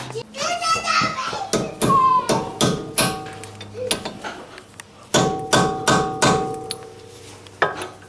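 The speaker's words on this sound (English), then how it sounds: "use a screwdriver or an appropriate tool to notch this axle nut to the notch on the axle itself" A screwdriver is struck against a Honda Civic EK axle nut to stake it into the axle notch. The metallic taps come close and loud, in bursts of several quick blows, with children's voices audible in the background.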